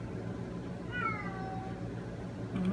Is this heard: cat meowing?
yes